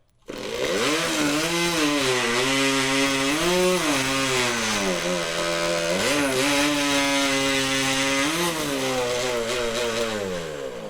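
A 250cc Honda-powered hot saw roars through timber at a timbersports championship, a loud, continuous high-revving engine whine that rises and dips in pitch as the blade bites, sustained for the whole stretch with no talk.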